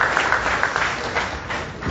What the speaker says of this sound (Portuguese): Palmas para